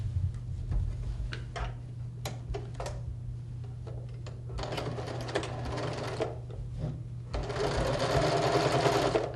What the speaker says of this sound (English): I'm going to sew down this side and I'm going to sew this side